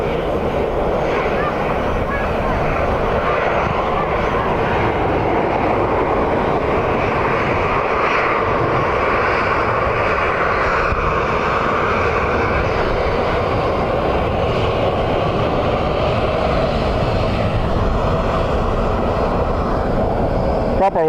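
An aircraft landing in strong Storm Bert crosswinds at Dublin Airport, with a sustained loud jet engine roar and wind rumble heard steadily throughout from a distance.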